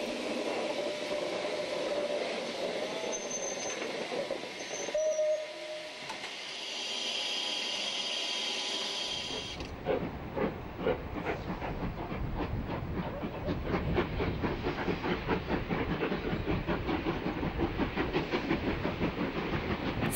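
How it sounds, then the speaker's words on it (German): A historic SBB steam locomotive working in winter: steady steam hiss at first, then from about ten seconds a loud, close rhythmic chuffing of exhaust beats with rail clatter, continuing to the end without talk. "als eine Dampflokomotive im Winter arbeiten zu sehen?"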